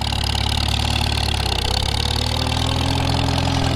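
An M&W tractor engine with a 9-speed transmission and newly installed carburetor, running in 4th gear: a steady, loud, close mechanical drone with an even low throb and no pauses.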